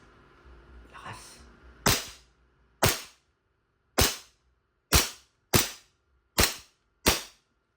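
An E&C G34 airsoft gas blowback pistol fires seven sharp, loud cracks at a slightly uneven pace, each with a short snap of the slide, after a brief muffled handling rustle.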